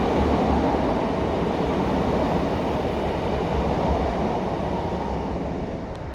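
Train rumbling along a railway line running beneath a built-up Sighthill neighbourhood in Northbridge, a steady loud broadband roar sustained throughout, tapering slightly at the end with no talk.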